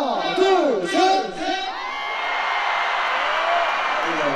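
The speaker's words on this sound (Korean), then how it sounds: "2층에 계신 분들 함성 한번 들어볼게요" A concert crowd on the second floor of a Korean sports-festival stage show roars into sustained cheering and shouting after a few seconds of someone speaking loudly into a microphone.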